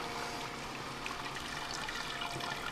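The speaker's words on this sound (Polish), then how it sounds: "i leci nam woda" Water runs from a tap on a COOBRA brewing kettle in a steady, even rush with a faint splashing texture, continuous and fairly close, with no voices; the water is used to sparge malt during home brewing.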